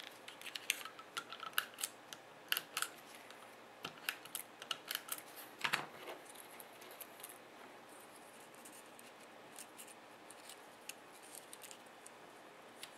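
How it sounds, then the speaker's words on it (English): Tape is pulled and pressed down by hand on a paper craft piece: sharp, scattered crackles and snaps, close and fairly quiet, in short bursts with quiet gaps between them. "In my case, I'm going to tape it."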